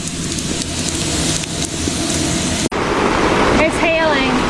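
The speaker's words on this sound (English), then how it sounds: "It's hailing. Yep, look, there's little white pebbles hitting the ground." Hail pelting the ground and nearby surfaces outdoors near a lake in a forest, a dense steady hiss of many small impacts throughout, with a brief whistling tone near the end.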